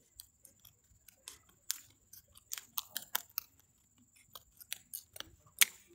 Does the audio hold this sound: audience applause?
no